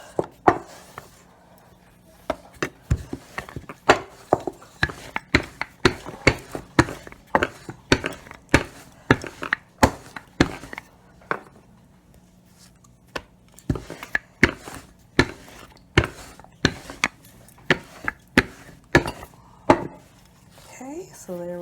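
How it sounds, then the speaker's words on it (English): Naan dough being rolled out on a well-floured surface in a home kitchen, heard as a steady run of close, sharp knocks and thumps from the rolling pin and board, repeating irregularly throughout with no talk. "Well floured surface. And just roll it out."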